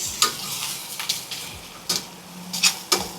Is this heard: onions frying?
yes